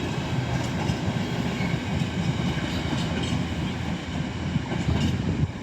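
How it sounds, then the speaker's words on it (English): An LNER Class 91 InterCity 225 train approaches a station, heard as a steady, moderately loud rumble of rail noise with faint clatter throughout. "I can just see a 91 set stopped at the signal, just coming into the station"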